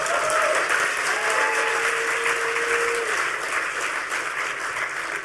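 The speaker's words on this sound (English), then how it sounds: "give him a round of applause" Sustained audience applause fills a hacker conference hall, a dense, steady wash of clapping that holds at an even level throughout with no talk over it.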